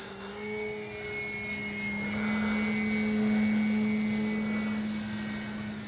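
An FMS 3M Fox radio-controlled aerobatic glider flies past at a steady distance, its motor giving a continuous whine that swells slightly mid-pass and then eases, with no talking.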